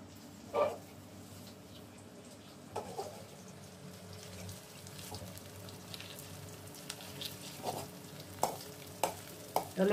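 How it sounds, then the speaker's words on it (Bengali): Cabbage pakoras deep frying in hot oil give a steady low bubbling sizzle, broken by several sharper clinks and scrapes of a utensil stirring and separating the fritters, with no talking. "এটা ধীরে ধীরে ফ্রাই হচ্ছে এখন।"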